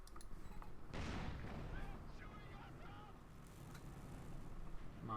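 A mine detonates in Company of Heroes 2, a faint but sudden blast with a rumbling tail that sits under continuous commentary.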